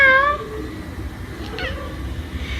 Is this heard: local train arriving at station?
no